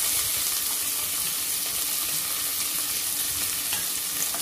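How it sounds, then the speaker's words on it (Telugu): Onions frying in hot oil in a pressure cooker with mustard seeds, cumin, urad dal, garlic and curry leaves, a steady dense sizzle running unbroken at close range with no talk. "ఈ ఉల్లిపాయలు కొంచెం కలర్ మారేదాకా ఫ్రై చేయాలి"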